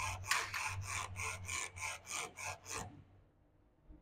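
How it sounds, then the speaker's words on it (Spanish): Polyurethane stabilizer bar bushings on a car suspension squeaking and rubbing in a steady rhythm of about ten raspy strokes, close and fairly quiet, then stopping abruptly with no talk. "logramos ver que los cauchos de la barra estabilizadora están haciendo este ruido."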